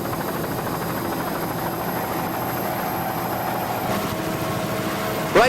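A helicopter flies above an offshore powerboat race in Key West, Florida, its steady rotor and turbine drone holding at one loud level throughout with no voices.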